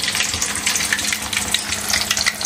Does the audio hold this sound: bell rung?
no